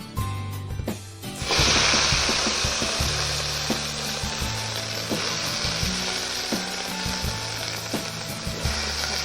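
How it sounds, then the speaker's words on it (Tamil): A sudden loud sizzle erupts as chopped banana stem hits hot oil in a pan, then settles into a steady frying hiss with occasional stirring clinks and scrapes. "அடுத்து நம்ம நறுக்கி வச்ச வாழைத்தண்டை போடுவோம்"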